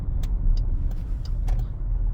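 A Dodge Durango V8 SUV on the road, heard from inside as a constant loud low rumble and road roar with a few light clicks and taps over it, and no talking.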